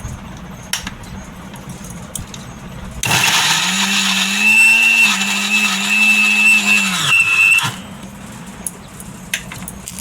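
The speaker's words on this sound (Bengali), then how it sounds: "কেটে নিয়ে এবার মিক্সিতে আমি এটা পেস্ট করে নিচ্ছি" Electric kitchen mixer grinding raw pointed gourd and green chilli into paste, a loud close whirring burst of about five seconds that starts abruptly and cuts off, with quieter room sound before and after.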